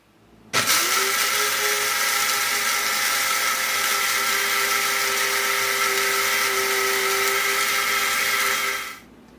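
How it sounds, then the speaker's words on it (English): An electric coffee grinder grinds beans for French press coffee, switching on abruptly and holding a loud, steady high whir for about eight seconds before cutting off. "Then we're going to grind the beans."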